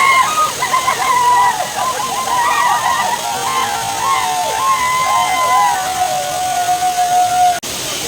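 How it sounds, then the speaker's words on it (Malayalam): Areekkal waterfall roars steadily in the background while several people talk and call out nearby over the rushing water. "ഇതാണ് അരീക്കൽ വെള്ളച്ചാട്ടം"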